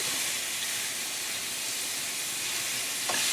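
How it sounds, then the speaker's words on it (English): Hot Italian ground pork sausage, about a pound, frying in olive oil in a pan over a turned-up flame, giving a steady, loud, continuous sizzle and hiss throughout, with a faint clink near the end. "I just have olive oil in here in the pan, so it's about a pound of ground pork sausage"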